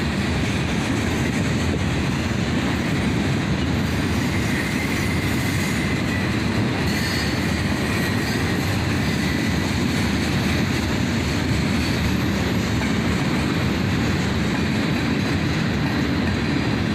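A CSX northbound manifest train led by a YN2-painted AC44CW locomotive, followed by an ES44DC, rumbles steadily past at close range for the whole stretch. Under the heavy roar come faint wheel squeal and rhythmic clatter of passing freight cars.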